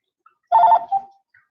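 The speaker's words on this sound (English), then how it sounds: "Oh, the phone is ringing." A single brief electronic phone ring, a short warbling trill followed by a softer tail, sounding alone against silence.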